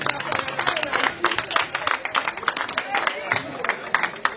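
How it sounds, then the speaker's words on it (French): Church congregation applauding, a close, uneven clatter of many hands mixed with crowd noise and voices talking throughout. "Applaudissez pour Port-au-Prince"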